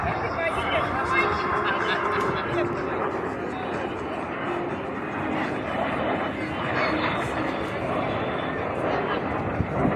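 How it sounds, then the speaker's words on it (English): A KC-135 jet flies past at an air show, a steady loud broadband roar that fills the whole stretch, with a commentator's voice over the public address running underneath. "KC-135 flies with 3 crew. You can clearly see through the markings, too. In the world today, beautiful jet."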